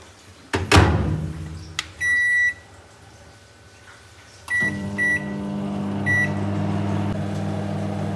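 A microwave oven drying fish hums steadily after a door thud, with a few sharp electronic beeps from its panel, clicks, and the running drone continuing to the end, close and clear.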